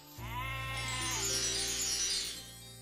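A cartoon sheep gives one long, wavering bleat lasting a couple of seconds, loud and close over a low steady hum, with no talk.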